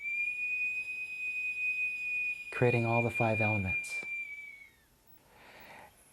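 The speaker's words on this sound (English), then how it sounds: "This is a condor bone flute" A condor bone flute sounds a single steady high whistle held for about four seconds and fading out. Someone speaks briefly over the middle of the tone.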